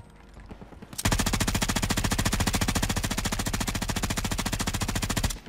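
Sustained automatic gunfire in Warzone 3 from a Bruen rifle, a loud rapid stream of shots starting after a second of quiet and running steadily for about four seconds before cutting off.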